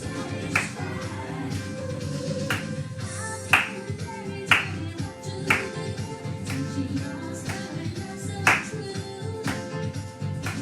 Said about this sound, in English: And now we're going to clap.